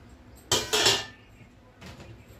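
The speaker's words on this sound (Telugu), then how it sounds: "యాలకులు ఒక 10 యాలకులు తీసుకొని ఇలా దంచుకోవాలి" About ten cardamom pods are pounded for a festival panakam drink: two quick, sharp clinking strikes close together, then a softer third hit after a brief pause, all close by.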